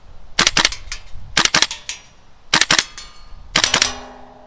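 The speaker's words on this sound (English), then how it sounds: "It's not as instantaneous as this gas blowback" Four bursts of sharp gas blowback airsoft shots, fired in quick pairs and triples, each a crisp loud crack with a short metallic clack of the cycling slide, standing alone with brief pauses between groups.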